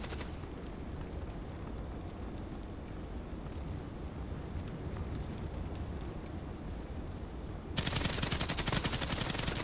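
Dense, continuous gunfire in a sniper video game, sustained bursts under a steady wash, growing louder and harsher in the final two seconds.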